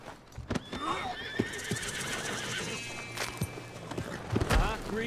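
A horse in the western video game Red Dead Redemption 2 gives a long, loud whinny, with hooves clopping and a few thuds around it and game talk present nearby.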